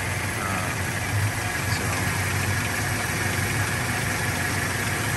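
The 2.4-liter four-cylinder engine of a 1998 Toyota Tacoma SR5 extended cab idles close by with a steady, even low hum and a slight mechanical clatter that never changes in pace.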